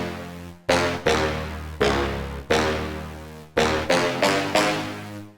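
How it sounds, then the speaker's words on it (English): Brass horn stab lead preset for Serum, built for trap and future bass, playing about nine bright, punchy chord stabs in an uneven rhythm, each hitting hard and decaying quickly, loud and alone with no talking. "This first one is called Brass"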